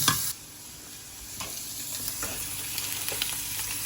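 An ingredient for pasta carbonara fries in a pan, a soft continuous sizzle after a brief louder clatter at the start, with a few faint scrapes, no talking.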